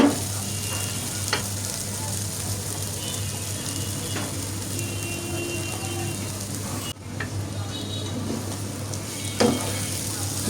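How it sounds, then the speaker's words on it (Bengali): Steady, continuous sizzle of beef brain frying in a pan over low heat, with occasional scraping of a utensil stirring through it. "আস্তে আস্তে করে ভেজে নিচ্ছি"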